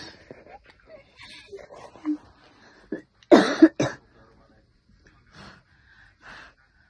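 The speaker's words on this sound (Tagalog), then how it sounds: "Inuubo ako." A person coughs hard twice in quick succession, close up, between quiet breaths and soft murmured talk.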